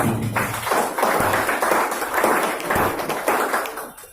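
Audience at a school speech event breaking into loud, dense applause, a sustained wash of many hands clapping in waves before it fades at the end.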